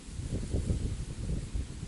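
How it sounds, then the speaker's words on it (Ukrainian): Wind blows along a riverbed during early-season perch fishing, a low, continuous rumbling buffet against the microphone with gusty swells and no talk. "Вітер прямо по руслу, здовує удочку."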